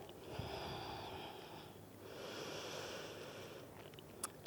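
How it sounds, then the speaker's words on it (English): Slow, quiet breaths during a yoga mobility exercise, two long airy inhale-exhale cycles close to the listener with a soft sniff near the end. "Take a couple of breaths here."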